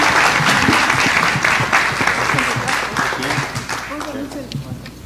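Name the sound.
applause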